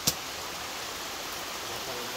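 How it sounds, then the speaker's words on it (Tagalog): Heavy rain falls on a thatched palapa roof, a steady dense hiss with one brief sharp click near the start. "Medyo malakas-lakas itong ulan na ito."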